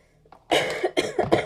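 A short burst of several coughs from someone getting over a cold, close and fairly loud, following a brief quiet moment.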